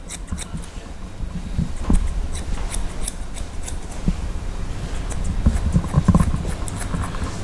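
Scissors snipping hair over a comb during a flattop haircut with fenders, quick close cuts repeating steadily with no voices.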